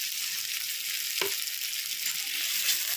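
Onions frying and being stirred in a wok with turmeric and salt, a steady bright sizzle throughout with one brief scrape of the spatula partway through, close and alone.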